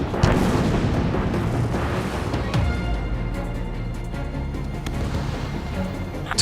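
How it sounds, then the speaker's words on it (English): A missile hits its target and explodes in the video game Ace Combat 7, a loud, rumbling blast followed by sustained heavy booming and crackling debris that stays dense and close throughout. "Missile connected."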